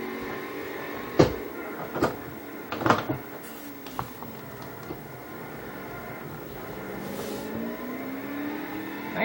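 A 640-horsepower car laps a track in a racing video game. The engine whines up and down through rising revs, with sharp clunks and thumps scattered across the first few seconds at moderate volume.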